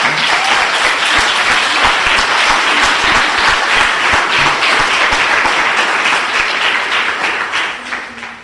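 A congregation claps for the Lord during a Spanish-language Catholic teaching on the Marian dogmas: loud, sustained, even applause filling the room for several seconds before tapering slightly at the end.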